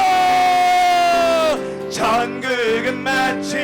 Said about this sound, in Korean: 함성으로